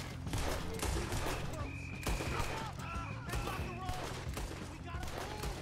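Rapid gunfire from a shootout in the video game Red Dead Redemption 2, with dense bursts of shots cracking continuously over a busy background of game sounds, and someone talking between and over the volleys.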